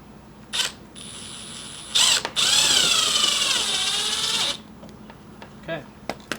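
A power drill whines through a Porsche 987 Cayman GT3-style bumper to make a vent opening: a short burst, then a steady high drilling whine lasting about two seconds, with small clicks and handling noises around it.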